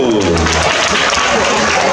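Loud applause from a festival crowd at the Festa de Nossa Senhora da Penha, dense clapping and chatter throughout, with musical tones briefly underneath at the start.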